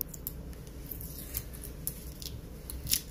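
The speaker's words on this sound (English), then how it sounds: "I'm trying to get this sticker off" Faint scratching and peeling of a sticker being worked off a thrifted item, with small crisp ticks and rips close by over a low background hum.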